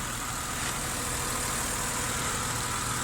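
A BMW Z3 engine runs at a steady idle while the radiator fan spins fast, producing a constant, close, loud whooshing hum and mechanical drone with no voices.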